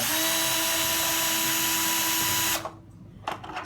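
A power screwdriver whines loudly and steadily as it backs a screw out of an AC-825 unit, then cuts off. A few light clicks follow.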